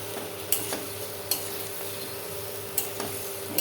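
Fried potatoes go into a pan and are stirred, a few sharp scraping clanks over a low steady sizzle, close and moderately quiet with no voices.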